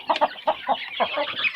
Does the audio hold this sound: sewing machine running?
no